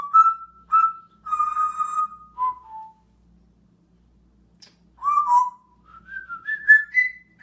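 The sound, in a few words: pet talking bird whistling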